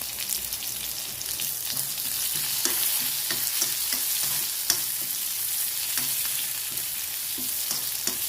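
Dried red chillies and curry leaves fry in hot oil, a continuous close sizzle dotted with sharp crackles and pops, with no talking.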